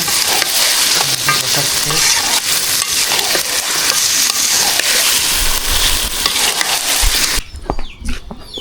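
Meat cooks in a pot over an outdoor clay stove on a winter evening, a loud, dense sizzle with stirring scrapes throughout, ending in a quieter stretch with faint background sounds.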